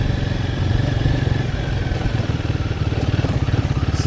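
A motorcycle engine runs steadily close by, a low throbbing rumble with a rapid pulsing rhythm and some wind noise, no voices.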